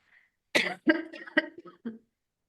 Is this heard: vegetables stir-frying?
no